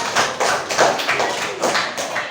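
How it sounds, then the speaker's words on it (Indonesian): Classroom of students clapping together, loud and close, in uneven bursts of hand claps, with no talking. "tepuk tangan buat kalian semua"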